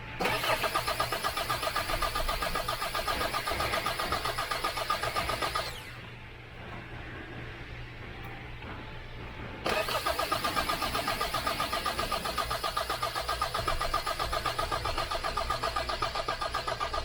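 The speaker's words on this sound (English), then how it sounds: "now I'm gonna fire up the engine and see." A 2021 Hyundai Santa Fe engine cranks with a rapid, steady starter chug for several seconds but never catches, pauses, then cranks again just as long without firing.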